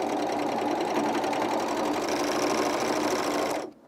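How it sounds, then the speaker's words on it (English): A sewing machine runs steadily while stitching stretchy knit fabric for underwear, a dense continuous mechanical whir held at a constant speed for several seconds, close and alone, then stopping abruptly at the end. "Like you can just keep sewing and it'll start bunching up the thread right here and pushing this away"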